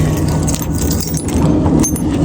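Keys jangle and clink continuously at close range for a couple of seconds, a busy metallic rattle with no talk over it and a faint engine hum behind.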